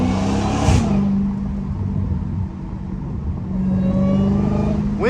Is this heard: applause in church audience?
no